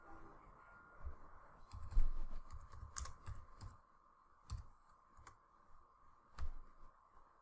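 Soft, sparse keystrokes on a computer keyboard, a few clicks at a time with pauses between, quiet and close against low background hum.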